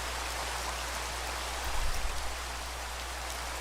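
Heavy rain in the Minecraft Pixelmon game, a steady dense hiss of falling water that stays even throughout, with a brief low thump partway through.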